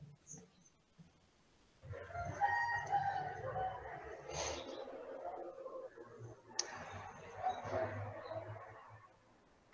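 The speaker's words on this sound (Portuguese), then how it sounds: "Galo tá cantando aí, Carol." A rooster crows repeatedly in the distance, its drawn-out calls faint against quiet background noise.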